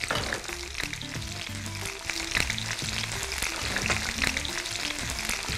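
Green chillies and thinly sliced onions frying in hot oil, a loud, busy sizzle and crackle that carries on steadily throughout, with no voices.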